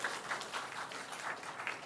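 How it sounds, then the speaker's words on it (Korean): Congregation applauding in welcome during a Sunday church worship service, a steady wash of many hands clapping at moderate level with no talk over it. "우리 힘차게 환영하는 박수"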